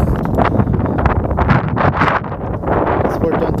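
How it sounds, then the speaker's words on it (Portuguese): Steady broadband wind rumble buffets the microphone outdoors, continuous throughout with a gusty roar and no clear speech. "Aqui agora, tá um pouco ventando aqui."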